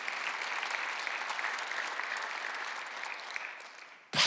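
A church congregation at a Sunday service claps in affirmation, a sustained, even round of many hands at moderate loudness that tapers slightly before a sharp, louder burst at the very end.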